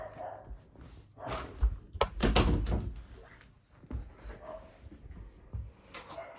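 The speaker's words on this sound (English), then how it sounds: "I'll close the door." A door is shut indoors in a room, with handling knocks and a louder thudding close around the middle, followed by quieter movement.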